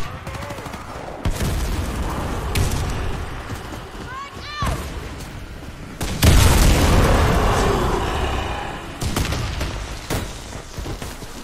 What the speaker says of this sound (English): Grenade! Grenade out! Frag out!